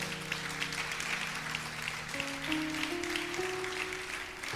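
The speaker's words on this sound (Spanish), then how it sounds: "¿Le puedes dar un aplauso a la palabra de Dios?" A church congregation applauds during a sermon: a steady, soft wash of many hands clapping at a distance, sustained throughout, with a faint held musical tone underneath.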